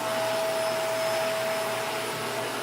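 A vacuum cleaner in a bedroom studio roars loud and steady at close range with a high whine, sucking at small screws and a nut, alone with no talk.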